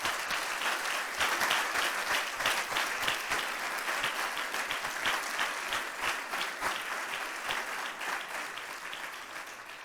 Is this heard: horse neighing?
no